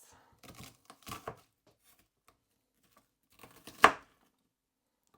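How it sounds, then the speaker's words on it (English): A knife slices food for lentil soup: a few soft, scattered cuts, then one sharper, louder cut, all close and quiet with silence between. "I cut it into slices like this, and then other way around."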